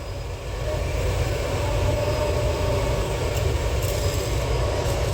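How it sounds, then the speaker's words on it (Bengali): A train rumbles across a railway bridge over a river, a loud continuous low roar of wheels and carriages with faint metallic squeals, steady for the whole span. "হ্যাঁ ট্রেনটা প্রায় যাওয়া কমপ্লিট ব্রিজ পার হয়ে চলে গেছে অলরেডি"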